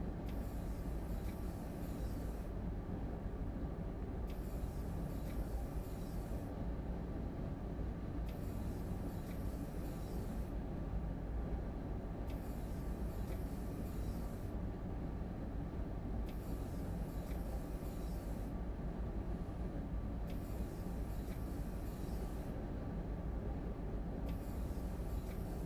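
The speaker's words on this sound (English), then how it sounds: "The rumble of the train" Steady low rumble of a train coasting on the Salzburg–Rosenheim line in Train Sim World 4, with windscreen wipers sweeping at a regular rhythm of roughly every four seconds over the continuous drone; no one speaks.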